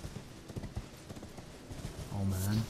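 Horse hooves clip-clop in a steady rhythm as a rider travels through Elden Ring, with people talking over them. Near the end a brief tonal, whinny-like sound rises.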